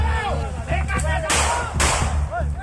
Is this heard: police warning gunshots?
yes